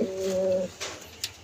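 A pigeon in a loft of female pigeons gives one clear, close, throaty coo lasting just over half a second, followed by a couple of faint soft taps.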